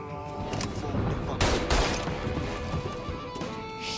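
Gunfire in the video game Mafia III, a dense burst of shots with a loud crash-like peak midway, continuous over the few seconds with faint voices in the mix.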